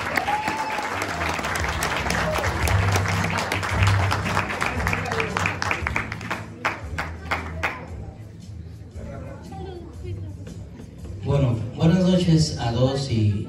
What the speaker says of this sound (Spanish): Fuerte el aplauso para recibir a Santiago.